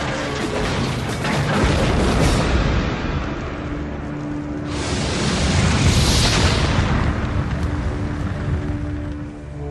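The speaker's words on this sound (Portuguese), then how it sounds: "E explode em seu paiol, detonando 300 toneladas de munição." Huge ammunition magazine explosion aboard the battleship Bismarck, a sustained roaring blast with rumbling debris and crashing, swelling again midway before slowly fading, loud and dense.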